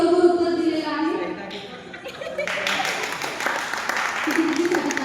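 A youth-group quiz at a church Christmas program ends in audience applause for a correct answer: a burst of clapping rises midway and keeps going, mixed with voices and chatter in the hall.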